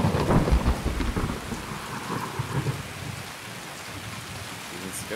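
A thunderstorm in the video game Escape from Tarkov brings heavy rain hissing steadily on surfaces, with a deep thunder rumble loudest at the start before easing into a constant downpour.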